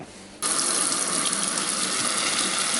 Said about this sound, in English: I'm just going to turn the heat off and bring it over to the sink, strain it and rinse it.